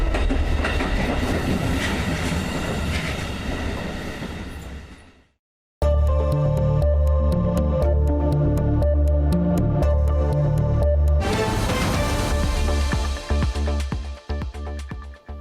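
Train at a railway station in the Baltic states, rolling past with loud, steady clickety-clack of wheels on rail joints and rumbling wagons, a brief silent gap midway, then continuing with rhythmic clacks and some high wheel noise.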